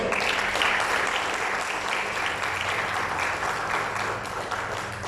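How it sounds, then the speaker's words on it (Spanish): Strong, sustained congregational applause inside a church during a Spanish-language sermon, dense and continuous with a faint low musical hum underneath. "¿Cuánto dan un fuerte aplauso al Señor?"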